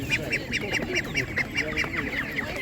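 Ducks at an outdoor animal market give a rapid series of about a dozen evenly spaced nasal quacks, loud and close, over a busy background murmur of other farm animals and people.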